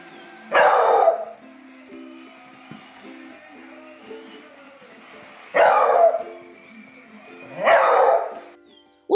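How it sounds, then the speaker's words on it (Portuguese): A beagle lets out three loud, separate bursts of barking, close by, with quiet pauses and a faint background hum between them. "O que é muito característico do Beagle é que o latido deles é alto"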